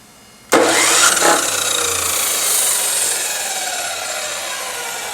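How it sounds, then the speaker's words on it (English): A chop saw spins up abruptly and grinds against the outside of a PTFE hose end, deburring it with a loud, steady abrasive whir that holds for several seconds with no talking. "you can use your chop saw like this, be careful. And you can just use it to more or less deburr that outside of that hose"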